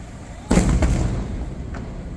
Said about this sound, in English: These are such big fireworks.